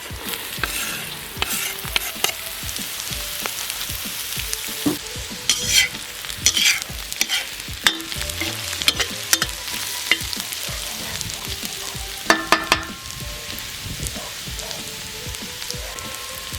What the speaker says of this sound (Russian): Сперва пассируем лук. До прозрачности. Добавляем к луку морковь.